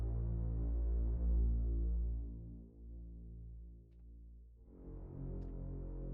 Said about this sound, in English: A humming.